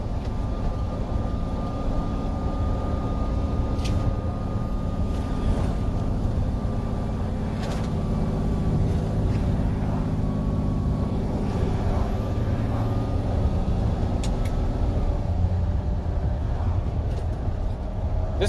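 A Cummins diesel in a Freightliner M2 26-foot Penske box truck drones steadily on a 7% downhill grade with the exhaust brake and turbocharger working, a continuous low rumble with faint high whine, heard from inside the cab.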